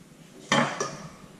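A knife cuts the ends off a banana on a board, giving two sharp, close knocks about a third of a second apart with quiet between them.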